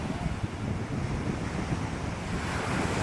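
Ocean waves wash onto the shore at Baler, a continuous rushing surf mixed with gusting wind buffeting the microphone, fairly soft and steady throughout.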